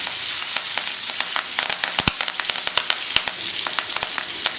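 Finely chopped green chillies crackling and sizzling in hot oil with asafoetida, a dense steady fry broken by sharp pops and the scrape of stirring, close and loud with no voices.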